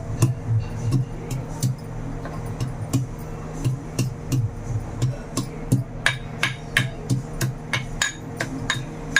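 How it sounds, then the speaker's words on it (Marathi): Garlic pounded coarsely in a mortar for a Rajasthani dish: sharp, evenly spaced thuds at about one or two per second, close and clear above a faint background hum, with no talking. "ह्याच्यामध्ये मी कुटणार आहे लसण"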